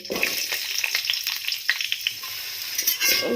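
Cut potatoes frying in oil with nigella seeds, a loud, close crackling sizzle with scattered spatula scrapes throughout.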